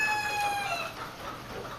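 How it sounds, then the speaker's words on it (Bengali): Egyptian Fayoumi chickens at a poultry farm, a rooster's crow ringing out clearly over soft clucking and farmyard background noise. "মিশরীয় ফার্মি মুরগির খামার।"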